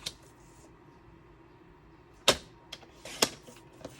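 A paper trimmer slicing cardstock for a papercraft project, heard as two sharp, close cutting swipes a second apart, followed by faint rustles and small taps of paper handling in a quiet room.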